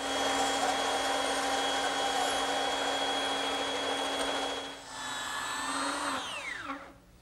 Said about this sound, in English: but I'm going to use the bandsaw.